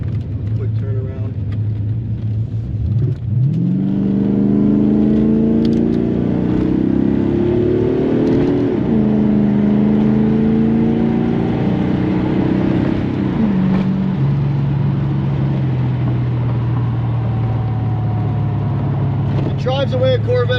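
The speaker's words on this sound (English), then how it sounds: "It drives the way a Corvette should drive." 1986 Chevy C4 Corvette heard from inside while accelerating, engine note climbing through several gears before settling to a steady cruising drone.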